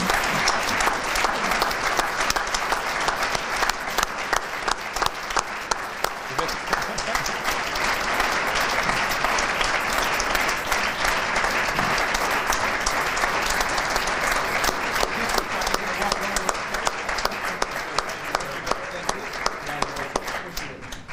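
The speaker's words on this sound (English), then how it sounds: "Please join me in applauding them." Audience at the Hamilton Vision 2020 Awards applauds award-winning partners, with steady, dense clapping from a large crowd sustained loudly for about twenty seconds without letup.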